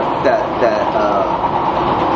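A train passing by outdoors, a loud rumbling roll with a faint squeal of wheels, steady throughout, with speech mixed in.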